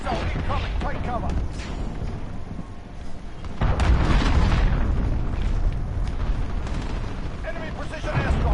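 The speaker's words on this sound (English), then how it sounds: "Enemy cruise missile incoming. Take cover." Heavy booming blasts of a cruise missile strike in a first-person shooter game, rumbling and rolling on for several seconds, with a sharp louder impact partway through and dense explosive noise throughout, close and loud.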